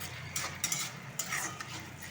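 Urad dal and peanuts fry in oil for a pulihora tempering, a soft sizzle under scattered clinks and scrapes of a spoon stirring the pan, close and fairly quiet.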